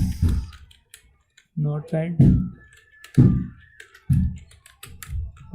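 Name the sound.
typing on computer keyboard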